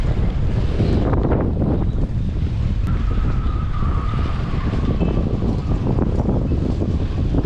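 Strong wind gusts roar across a boat at sea, a steady loud rushing with heavy microphone buffeting and a faint tonal whistle partway through, no voices.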